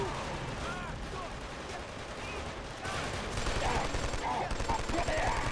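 Hip-fired gunfire in the Killzone 2 video game, a dense, steady rattle of automatic shots with a louder burst in the second half, layered with other battle noise and game voices.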